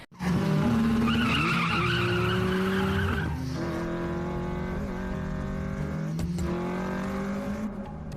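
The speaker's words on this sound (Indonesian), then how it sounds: "Dan aksi balap liar itu pun terjadi." Toyota AE86 and Nissan GT-R drifting in a street race: a loud, close, sustained tire squeal over revving engine whine, shifting pitch midway and carrying on with further screeching.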